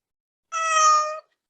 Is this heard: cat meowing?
yes